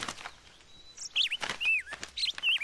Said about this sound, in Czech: Slyšíš tu písničku? To bude určitě ten Slavík.